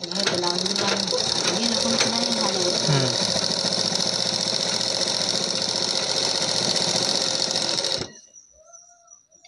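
A sewing machine set to a longer stitch runs continuously for about eight seconds, loud and close with a steady mechanical hum, then stops as a voice speaks over it.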